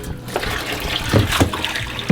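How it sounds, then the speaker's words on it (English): Water gurgles and splashes through a long hose being filled and started as a siphon to drain a large office fish tank, with a couple of louder bursts as the flow kicks in. "We're siphoning."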